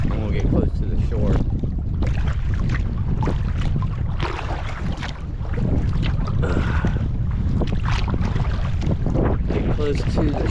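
A boat is paddled near the shore of the Ohio River in strong wind, with gusty wind buffeting and water sloshing close by, a constant rough roar and no clear voice over it.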